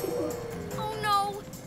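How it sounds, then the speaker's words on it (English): A bird coos close by in a short, soft warbling call, with children's pretend-play voices around it. "Oh no, a bird."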